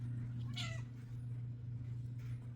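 A cat meows once, clearly and fairly close, on a cold, rainy porch, over a steady low background hum; a fainter sound follows near the end.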